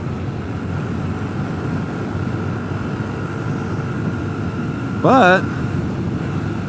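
Strong headwind of about 25 mph roars steadily over a Honda Trail 125 being ridden on dirt near a lake, a constant loud rush blended with the engine, and a brief word is spoken near the end.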